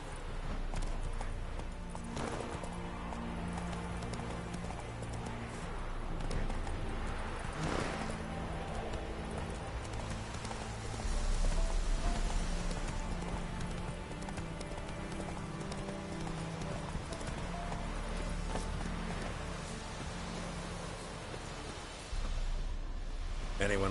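Horse hooves clip-clopping in the video game Witcher 3, a steady rhythmic galloping beat running throughout under ambient game music and background sound.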